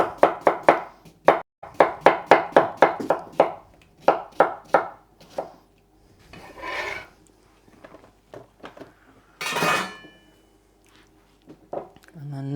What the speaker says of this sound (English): I'm just going to slice those up for my salad and for the couscous.